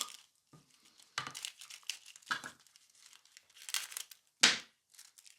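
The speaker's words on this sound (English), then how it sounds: "so we are gonna cut a transfer foil" Gold transfer foil for nail art being cut and handled, giving a run of close, light crinkling and crisp snipping rustles in short bursts, with one sharper, louder crinkle near the end.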